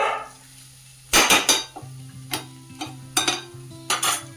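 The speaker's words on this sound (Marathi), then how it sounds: "याने असं सगळा प्रेस करून घ्यायचा वाटाणा" A metal masher presses hot steamed green peas in a cooking pot, making a handful of distinct knocks and clanks spaced about half a second to a second apart, close and fairly loud.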